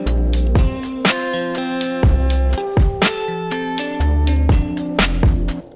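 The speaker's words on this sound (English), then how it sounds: "I've got kind of a main beat section, which sounds like this" A song's main beat section playing from Ableton: punchy kicks and crisp snares under sustained bass and tonal synth or guitar notes, loud, steady and clean, with no talk.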